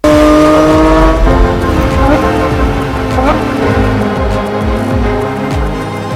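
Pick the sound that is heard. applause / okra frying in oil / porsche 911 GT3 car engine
porsche 911 GT3 car engine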